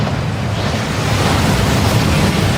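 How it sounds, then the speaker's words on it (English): Waterfall rushing in the Hogwarts Legacy video game, a loud, dense, continuous roar of falling water with no breaks or voices. "That waterfall washes away all enchantments."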